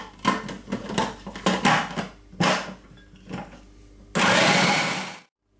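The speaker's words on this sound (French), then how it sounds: "Alors, on va commencer par mixer le spéculoos." Blender mixing speculoos biscuits with melted butter, several short pulsed whirs that chop and rattle, then one sustained loud run before cutting off into silence.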